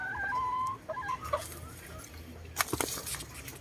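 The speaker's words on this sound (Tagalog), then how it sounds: "Dito maraming stag na binibenta." Young stag roosters (gamecocks) give short clucks and brief crow-like calls, fairly faint against background noise, with a burst of broadband noise toward the end.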